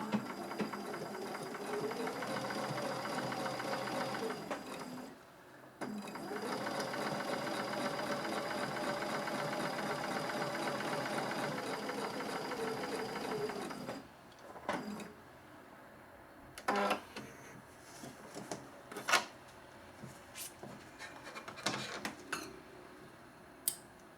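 A sewing machine stitching quilt applique runs in two long steady whirring stretches separated by a short pause, then falls quiet apart from scattered clicks and handling knocks.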